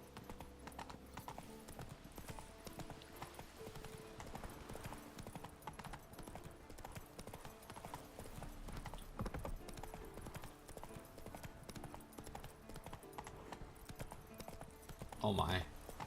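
A horse gallops in The Witcher 3 video game, a steady fast clip-clop of hooves running continuously under someone talking, fairly quiet overall.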